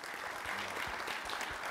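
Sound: audience applause

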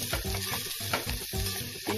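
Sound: onions being sautéed in a pan

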